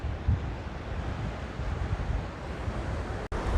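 Sea waves wash steadily onto the beach at Sakkotai Cape near Point Pedro in Jaffna, a continuous broadband rush of surf mixed with wind buffeting the microphone, with no voices.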